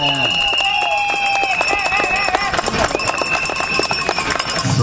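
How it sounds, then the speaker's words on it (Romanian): Crowd applause and cheering at the finish-line awards of a mountain marathon in Slănic Moldova, steady dense clapping throughout with a loud announcer's voice and music running over it. "Aplauze, aplauze, aplauze!"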